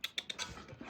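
A Doberman pants close by in quick, breathy puffs, four sharp strokes followed by softer, rougher breathing.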